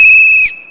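A rape whistle blown once in a loud, piercing, steady shrill blast lasting under half a second, then cut off with a faint ringing tail.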